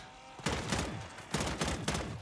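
Gunfire from shooting zombies in MW3 Zombies, heard as two loud sustained bursts of rapid automatic fire separated by a short gap, close and dominant.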